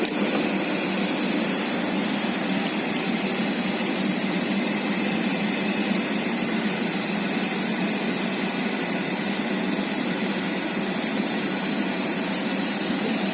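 A DC shunt machine keeps whirring after its double-pole switch is opened, a loud, steady whine with broadband rushing noise that runs unbroken throughout, with no talk.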